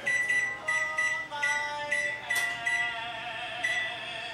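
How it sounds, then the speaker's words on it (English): A kitchen timer is set for baking peanut butter cookies, giving a series of bright electronic beeps in short irregular clusters. Close and fairly loud, with no voices. "So let's go timer set"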